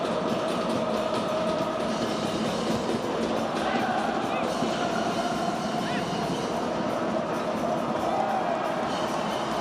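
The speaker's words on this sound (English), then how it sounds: "Crowd are in good voice." Football stadium crowd at an AFC Champions League group match between Ulsan Hyundai FC and Johor Darul Ta'zim, chanting and singing as a steady, dense roar from far off, with commentary talk over it throughout.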